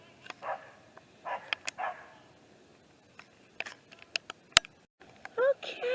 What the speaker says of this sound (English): Oh, there's a neighbor's dog.